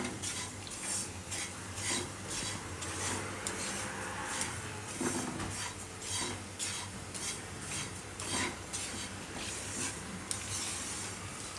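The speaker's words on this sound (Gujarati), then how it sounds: "આમાં આપણે ટોપરું લઈ લેવું. થોડીક વાર એને એમનેમ જ શેકવાનું છે" Grated coconut being dry-roasted in a pan for mango coconut laddu, with a spoon steadily scraping and stirring against the metal in a continuous rasping rhythm, moderately loud and close, with no talking.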